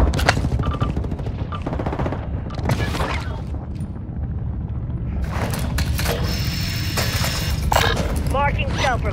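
Video game firefight with bursts of gunfire, sharp shots and crackling impacts scattered over a dense, noisy battle backdrop, while voices call out in between.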